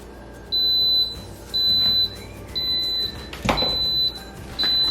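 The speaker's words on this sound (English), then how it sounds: "our timer just went off on the Instapot" An Instant Pot timer beeps in a regular on-off pattern, five clear, steady high tones close by, with a brief clatter in the middle.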